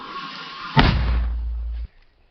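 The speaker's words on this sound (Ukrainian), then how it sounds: "Постріл!" A single heavy boom of an artillery gun firing in combat, a sharp blast followed by a sustained low rumble that cuts off abruptly.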